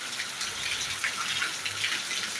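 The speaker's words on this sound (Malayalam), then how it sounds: "അടിപൊളി ഒരു മഴ കേട്ടോ കിടില മഴ" Heavy rain pours in a steady, even hiss, dense and unbroken, heard alone without voices.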